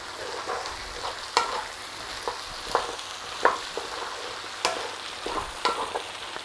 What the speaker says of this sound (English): Stir the potato through.